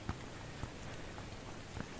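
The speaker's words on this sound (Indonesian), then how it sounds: "masih gerimis." Light drizzle falling on a misty forest trail at Cisadon, a soft steady hiss of rain with a few scattered louder drop taps, faint and continuous with no talking.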